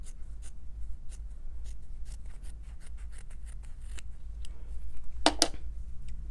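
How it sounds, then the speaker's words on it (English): Scissors snip through quilt fabric in a quiet room, a series of soft, close, crisp cuts in an irregular rhythm, ending with a sharper burst of snips near the end. "it's just as easy to cut them with a scissor"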